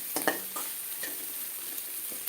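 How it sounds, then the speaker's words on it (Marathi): Onion sizzling as it fries in a pan toward a golden-red colour: a close, steady hiss with a few light taps of a stirring spoon. "तळणं सुरू झालेलं आहे त्याला खमंग थोडासा लालसर रंग येईपर्यंत तळून घ्यायचा आहे"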